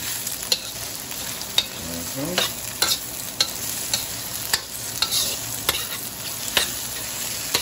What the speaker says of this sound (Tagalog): Tapos po, halo-haloin natin.